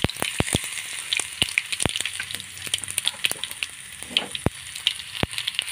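Chopped garlic frying in hot oil with popping mustard seeds and curry leaves, a steady soft sizzle broken by sharp, irregular crackles and pops, close and alone without talk.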